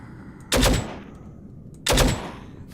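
Two separate loud gunshots ring out about a second and a half apart in the PC game The Withering, each a sharp burst with a short decaying tail over quiet background.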